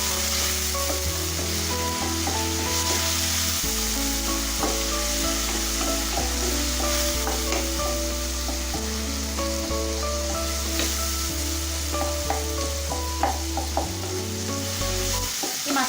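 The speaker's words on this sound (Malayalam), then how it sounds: "മുളക് പൊടി, മഞ്ഞൾപ്പൊടി, ഗരം മസാല എന്നിവ ചേർത്ത് ഒന്ന് വഴറ്റി കൊടുക്കാം." Chili powder, turmeric and garam masala sauté in a pan for tawa chicken, giving a steady sizzle with frequent scraping stirs, close and continuous under a low background music bed, with no talking.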